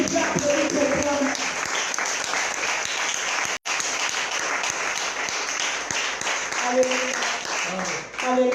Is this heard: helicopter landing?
no